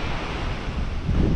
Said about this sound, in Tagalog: dito sa karagatan